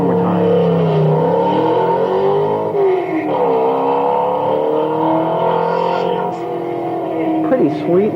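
A hill climb race car with a huge rear wing revs loud and close, its engine pitch rising and falling in sweeps while someone talks.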